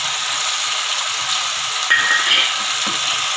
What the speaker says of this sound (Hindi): इसे थोड़ा फ्राई करेंगे लहसुन को